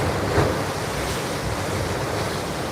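Ocean waves crash against the rocky shoreline at China Walls, Hawaii, as a steady, loud wash of surf with wind buffeting the microphone throughout.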